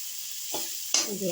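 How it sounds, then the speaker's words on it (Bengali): Pointed gourd peels fry in a pan with a steady sizzle, broken by two brief scraping stirs. "এটি একটু লাল করে ভেজে নেব। এই যে একটু নেড়ে দিই"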